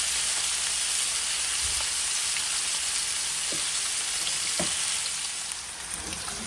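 Hilsa fish fries in a pan with a bright, loud, continuous sizzle and crackle, close by, with a few soft knocks of a utensil against the pan.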